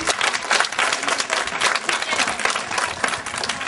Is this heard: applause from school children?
yes